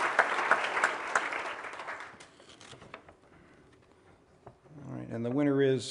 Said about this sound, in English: Let's give the 3 finalists a round of applause because it's tough to get there.